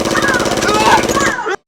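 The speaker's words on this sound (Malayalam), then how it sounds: "വെടി വെച്ചിട്ട് അവൻ ഓടിപ്പോയി." Rapid automatic gunfire rattles loudly and close in a comic horror film, a dense continuous burst that cuts off abruptly.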